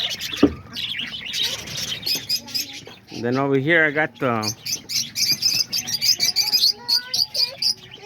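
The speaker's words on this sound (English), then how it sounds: "And here's all the peach face lovebirds." Peach-faced lovebirds in a backyard aviary cage chirp in quick, bright bursts near and far, with a cooing dove-like call mixed in, while someone talks over them.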